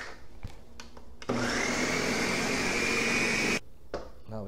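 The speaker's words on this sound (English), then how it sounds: "Mix that soft." An electric mixer switches on with a sudden, loud, steady motorized whir that holds for about two seconds, then cuts off abruptly, leaving a quiet room.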